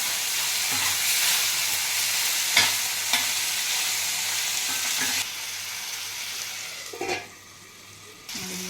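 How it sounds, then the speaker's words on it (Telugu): Chettinad chicken masala fries with curry leaves in a pan, giving a steady loud sizzle with intermittent stirring scrapes, then quieter sizzling near the end. "మసాలా వేగుతుంది"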